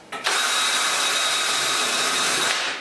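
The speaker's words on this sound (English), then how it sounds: "So I'm going to drill a small hole through the wood," A power drill bores a small pilot hole through wood for a stand, a steady high whine running for about two seconds after a brief start-up, close and loud with no talk.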